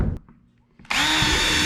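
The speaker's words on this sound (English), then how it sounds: "I'm gonna go ahead and drill a small starter hole and then use the jigsaw to cut it around." A power drill bores a small starter hole in a plastic storage container for a jon boat bench seat, a brief tap followed by a loud, sustained whirring drone close to the microphone.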